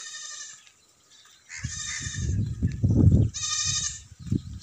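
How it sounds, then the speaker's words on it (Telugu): Goats bleat in a village, several loud, wavering calls near the microphone, one at the start and another toward the end, between bursts of low rumbling handling or movement noise. "ఇక్కడ మేకలు మళ్ళీ ఎక్కువ ఉంటాయి,"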